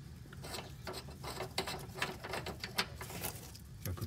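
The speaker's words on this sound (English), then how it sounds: "This is a 15 millimeter bit, so back it all the way out." A ratchet backing out a 15 mm bolt on a 2007 Porsche Cayman 987.1 during a power steering rack job, quiet rapid clicking and metallic ticks in an uneven rhythm, close by.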